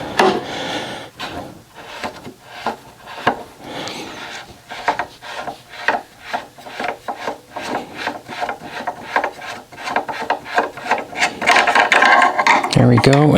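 An AR-15 upper receiver part is unscrewed by hand and slid apart, making close, irregular metallic rubbing and ratcheting scrapes that quicken into steady turning clicks, ending in a louder sliding rasp.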